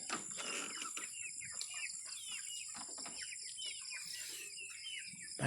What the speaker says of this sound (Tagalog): Yan yung aking mga alagang manok.